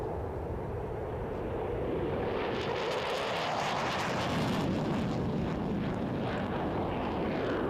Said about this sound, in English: you can look at how an F-15 takes off